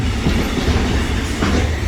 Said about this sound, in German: Und boah, ist der lang der Zug?